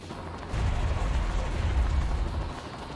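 A missile punch explosion in the mech action game Metal Wolf Chaos, heard as a deep, heavy boom that rumbles for about two seconds before fading, loud and close.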